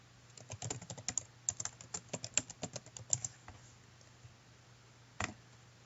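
A school name is typed on a computer keyboard in quick, irregular bursts of close, crisp key clicks, then a pause and one final keystroke, with no talking.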